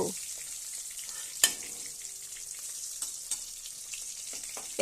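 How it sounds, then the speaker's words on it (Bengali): Catla fish sizzling as it fries in hot oil, a steady high hiss with a few sharp spatters and pops. "এইভাবে বাকি মাছগুলোকেও ভেজে নেব"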